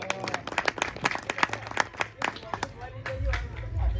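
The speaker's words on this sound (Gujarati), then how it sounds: "આ પરિવારને આપણે એકવાર તાળીથી વધાવો" Audience applause at a Gujarati satsang devotional gathering, a steady wash of many hands clapping with crowd murmur underneath, fading out toward the end.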